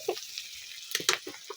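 Onion, garlic and green chilli are stirred in a frying pan, with soft sizzling and a few quiet scraping stirs of a spoon, close by but faint.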